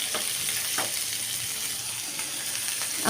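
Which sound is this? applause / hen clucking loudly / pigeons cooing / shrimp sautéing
shrimp sautéing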